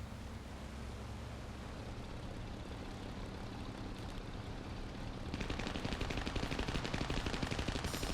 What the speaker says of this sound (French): Et Axi qui est en train de se faire découper par le Yak 4 de Reflex